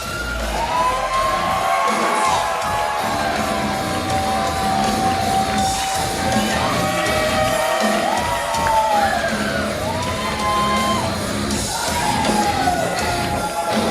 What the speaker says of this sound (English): The way this man has been able to connect with the crowd, I mean, I cannot hear myself right now.